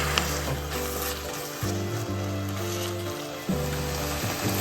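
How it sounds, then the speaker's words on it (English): A hot pan sizzles loudly as white wine is poured in to deglaze vegetables and tomato paste, a steady hiss with low bubbling tones underneath, with no talking. "Deglaze with white wine."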